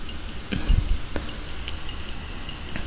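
An IoT buzzer alarm at level 3, triggered at about 33 degrees, gives short, high beeps repeating at an even rhythm, faint over a low room hum with a brief thump near the start.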